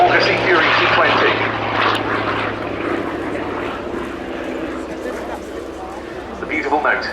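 Bristol Centaurus 18 radial engine, 2,500 horsepower, on a Sea Fury T.20 naval fighter, droning steadily at moderate distance while a commentator talks over it throughout.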